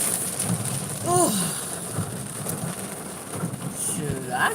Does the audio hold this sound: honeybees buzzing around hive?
no